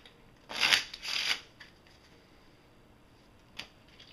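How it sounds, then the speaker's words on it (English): A deck of playing cards is shuffled at close range in two quick, crisp riffling bursts, followed by a faint single flick in an otherwise quiet room. "If I shuffle up the deck"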